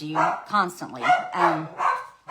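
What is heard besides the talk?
dog barking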